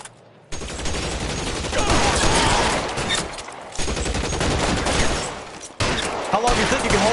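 Gunfire in L.A. Noire comes as dense bursts of shots in three rolling volleys separated by brief gaps, loud and crackling, with some voices mixed in under the shooting.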